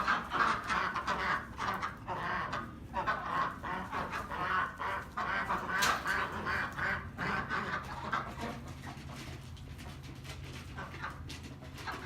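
A flock of Peking ducks crowds around freshly poured feed on a central Texas farm, giving off a dense, constant chorus of quacks and gabbling that is loudest early and eases slightly toward the end.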